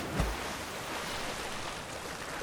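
A steady rushing wash of falling water from a waterfall in Zelda: Tears of the Kingdom, broad and moderately quiet, with a single low thump near the start.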